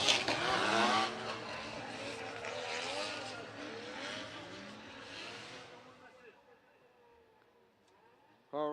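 A drift car on a qualifying run at Ebisu in Formula Drift Japan, its engine roaring and fading as it sweeps past, with a commentator talking over it throughout before the sound drops away near the end.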